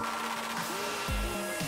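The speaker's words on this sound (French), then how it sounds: "Son sèche-cheveux peut l'aider?" Handheld hair dryer blowing steadily on wet socks, a loud continuous whooshing hiss with a steady motor whine and slight shifts in pitch as it moves.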